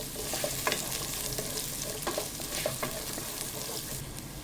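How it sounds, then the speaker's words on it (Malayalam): Coconut pieces frying in coconut oil in a pan give a steady close sizzle, with intermittent scraping clacks as they are stirred. "ഇതിലേക്ക് ആദ്യം തന്നെ നമുക്ക് തേങ്ങാക്കൊത്തൊന്ന് ഇട്ട് കൊടുക്കാം."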